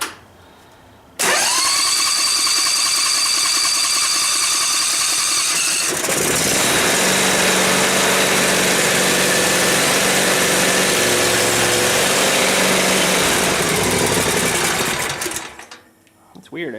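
A backpack leaf blower engine pulls over, fires and catches, then drones on at a loud, steady buzzing run before cutting out near the end.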